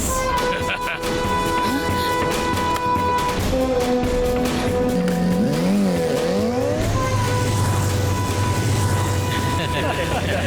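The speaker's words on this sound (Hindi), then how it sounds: "बाइक चालू हो गई।" A motorcycle engine starting and revving in an animated film scene, its rising and falling whine sweeping up and down, layered over a dense soundtrack with music tones and a low rumbling drone.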